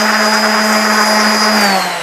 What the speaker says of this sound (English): or I can go with my sander